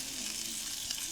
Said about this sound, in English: So the burgers are on.